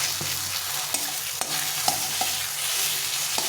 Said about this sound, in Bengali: একটু বেশি তেল দিয়ে আমি এটাকে ভেজে নেব